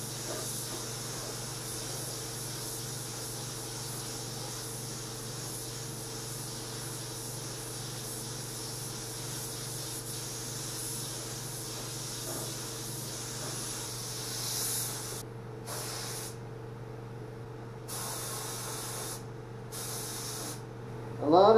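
Continuous spray gun hiss while painting the door jambs of a custom PT Cruiser with the doors on, steady and close, with brief cutoffs near the end as the trigger is released.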